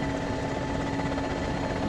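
A military helicopter in the game ArmA 2 drones steadily with a dense rotor and engine hum, loud and continuous throughout.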